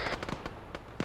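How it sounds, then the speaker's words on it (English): Several quick, muffled explosion thumps from an airstrike in a video game, irregular pops over about a second, distant and fairly quiet. "Airstrike just came in. Looks like they struck this."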